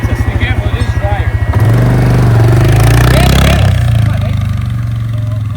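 A motorcycle engine idles with a rapid pulsing beat, then revs up loud and sustained for a wheelie attempt before easing back toward idle, close up with someone talking over it.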